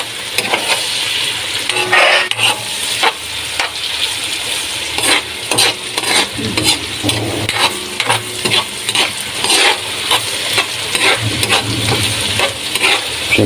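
A ladle stirs sautéed bean sprouts with tomato in a pan. Loud, busy scraping and tapping runs without a break over a constant sizzle, with frequent sharp clanks of the utensil against the metal.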